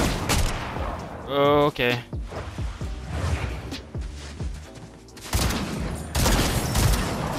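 Gunfire from a gun in Fortnite, a chaotic run of rapid shots and impacts with bursts at the start and end, while someone talks briefly over the action.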